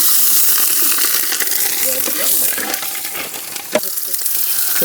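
Chillies tipped into very hot oil already frying garlic, with steady loud sizzling and crackling throughout, one brief spitting pop near the end, and faint voices in the background.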